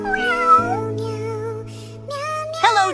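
A kitten gives high, wavering meows, a drawn-out cry followed by shorter calls rising again near the end, close and clear over a low steady hum.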